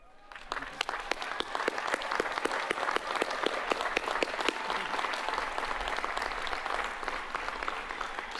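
Sustained crowd applause for cum laude graduates at Miami University's Spring 2024 commencement, a broad, even roar of many hands clapping with occasional sharper claps standing out, continuing for over eight seconds.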